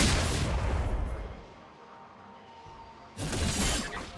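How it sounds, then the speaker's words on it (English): A turret being destroyed in League of Legends: a loud crashing, shattering burst with a heavy low boom that fades to a quieter rumble, then a second loud crash near the end. "Red team turret has been destroyed"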